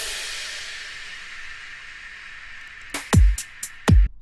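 Layered crash and impact sound effects in an electronic future bass production, a long decaying hissy crash wash followed by several sharp, booming low impacts near the end.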